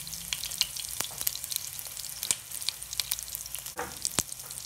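Pepper fries in ghee for a mushroom and pea curry, giving a quiet, steady sizzle broken by occasional sharp spoon clicks and a brief bubbling burst; close, with no speech.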